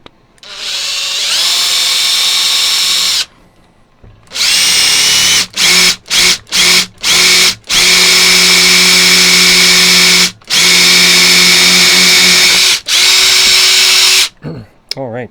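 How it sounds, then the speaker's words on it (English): A power drill drilling through leather whines loudly in long bursts, stopping and restarting with several short quick pulses between sustained runs, close by. "you can really just drill right through it."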